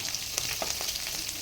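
Cumin, mustard seeds, chana dal, urad dal, curry leaves and green chilies sputtering in hot oil for avalakki, giving a close, steady crackling sizzle with sharp little pops throughout.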